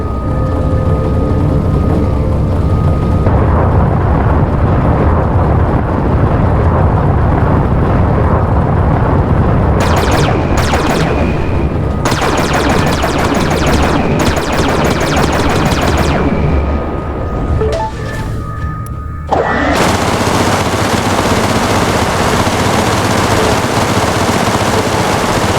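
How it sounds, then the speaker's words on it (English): Ship weapons firing at a mineable asteroid to extract fuel in the space game Everspace, with steady loud rapid bursts layered over a constant game soundtrack and engine hum, the firing dropping out briefly before a final burst. "There is a mineable asteroid nearby. Shoot at it to extract fuel."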